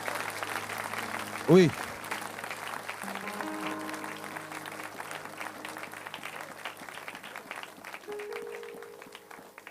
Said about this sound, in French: And we can give a hand clap unto the Lord